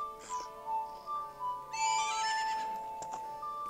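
Epona the horse gives a single loud whinny in The Legend of Zelda: Majora's Mask 3D, rising then trailing off over steady in-game music tones.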